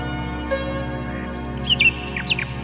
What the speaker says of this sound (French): Alors le rossignol chanta pendant toute la nuit.